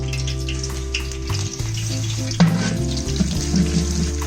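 Cumin seeds sizzle in hot oil in a village kitchen, a steady close crackle with a low hum running underneath, briefly swelling around the middle as the pan is worked.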